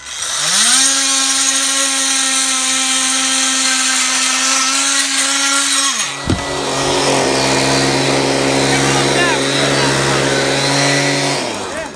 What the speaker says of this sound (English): So we're going to clear the glue off now it's dried. We found that these multi-tools are the best tool for the job.